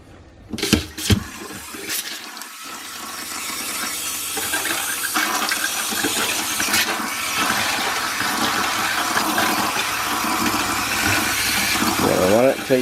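An RV water pump on a Forest River Geo Pro runs steadily while drawing pink antifreeze into the plumbing for winterizing, a continuous whooshing hum and water rush after a few clunks at the start.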